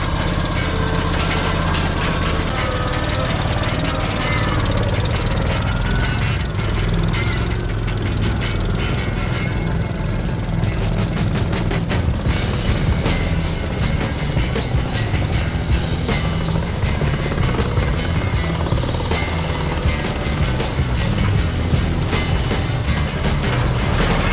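Cushman Trackster tracked vehicle engine running steadily while driving, a loud, constant close-up roar with rattling and clanking throughout and no break.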